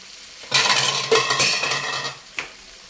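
A utensil stirs shrimp with cream, potatoes and carrots in a pan, scraping and clinking against the metal in a few bursts over a soft sizzle, close up with no talking.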